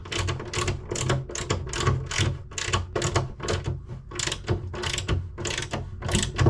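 A ratchet spanner tightens a nut on a Willys Jeep, giving close, loud bursts of rapid mechanical clicking that repeat in quick, uneven strokes throughout, with no talking.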